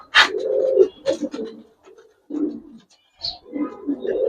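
Gribaz coloring pigeons coo in a loft, several soft throaty calls close by with short pauses between them.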